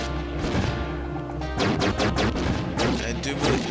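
Gunfire in the video game Starshot comes in loud, repeated blasts over dense game music, with a voice talking throughout.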